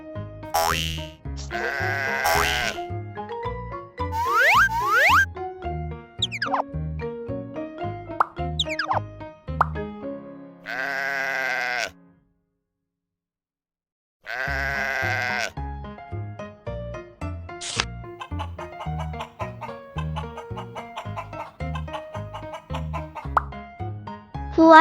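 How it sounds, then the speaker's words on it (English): A cartoonish sheep bleats amid playful boings, plops and chimes in a baby sensory farm-animal animation, with a short silent gap midway and no talk. "Sheep."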